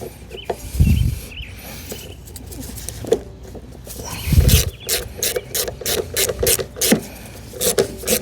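Tightening screws with a ratchet during a Craftsman lawn mower repair: a few handling knocks, then bursts of quick close ratcheting clicks in short repeated strokes.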